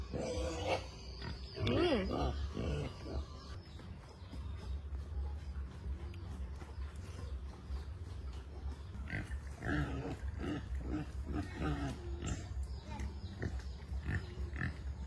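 Pigs grunt and snort repeatedly at a forest campsite, close and lively over a low steady background, while people talk throughout.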